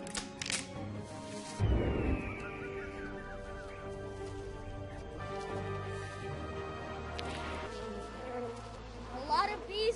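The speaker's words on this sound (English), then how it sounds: "A lot of bees up here." Bees buzzing around in a cartoon jungle scene, a continuous insect drone layered under music and sound effects at moderate volume, with a louder burst near the start.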